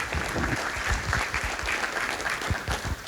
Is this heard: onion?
no